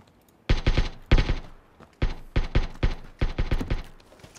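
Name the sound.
gunfire from the video game PUBG Battlegrounds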